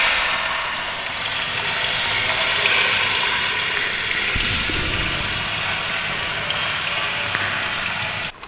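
Water falling continuously from rainwater collection tanks at night, a steady close splashing rush with a faint mechanical ticking underneath and no voices.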